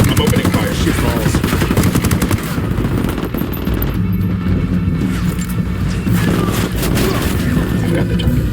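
Sustained rapid automatic gunfire in the video game Ghost Recon Wildlands, loud and dense, with continuous bursts and booms over most of the stretch.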